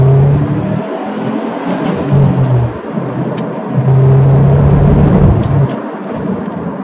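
A 2010 Subaru WRX STI engine revs and pulls hard, roaring up through the gears with loud, sustained acceleration, close and dominant throughout.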